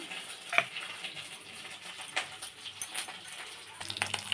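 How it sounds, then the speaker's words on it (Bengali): Ground chilli paste being sautéed in a pan, with a soft steady sizzle and scraping stirs, a sharp metallic clink near the start and another partway through. "ভালো করে কষিয়ে নেব"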